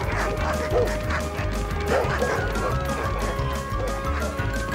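Several dogs bark and yip repeatedly in a busy, overlapping chorus, fairly close, with a steady mechanical background underneath, in an animated cartoon.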